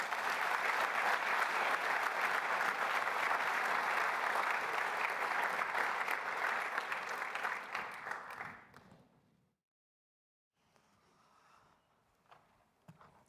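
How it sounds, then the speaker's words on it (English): An audience at a business plan competition applauds a speech with dense, steady clapping for about eight seconds. The clapping then dies away into a quiet room with a few stray sounds. "Let's give another round of applause for Brad."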